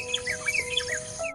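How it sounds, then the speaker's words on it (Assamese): A grey treepie gives a quick series of bright chirping call notes, fairly close, over a faint steady tonal hum in the background. "গ্ৰে ট্ৰিপাই"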